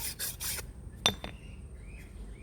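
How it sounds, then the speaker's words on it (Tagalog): A metal file rasps along a blade to sharpen it, on a farm: several quick, harsh strokes in the first half-second, then a single sharp metallic clink. No one speaks. "Para medyo matalas yung gagamitin ko."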